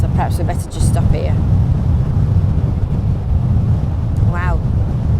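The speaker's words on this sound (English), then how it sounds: "Wow, it's windy one day." Strong wind buffets the microphone in a constant roar by the sea at Blackpool, with brief faint voices and a bird call cutting through.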